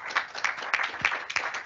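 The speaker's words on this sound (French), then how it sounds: "on applaudisse, merci" Audience applause closing a round-table panel at a French conference on social investment, a brief, fairly faint patter of many hands clapping with no voices.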